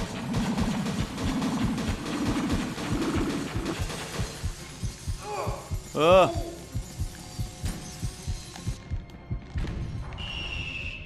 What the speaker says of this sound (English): Maybe it was the build-up, the heartbeat and all that.